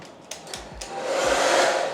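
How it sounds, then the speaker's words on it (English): A hair dryer in a hotel room at the Rixwell Old Riga Palace Hotel starts with a few clicks, then runs with a steady, close, rising whoosh of blowing air and no voices. "Got a hairdryer over here."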